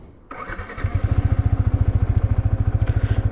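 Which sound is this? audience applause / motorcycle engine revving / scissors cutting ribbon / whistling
motorcycle engine revving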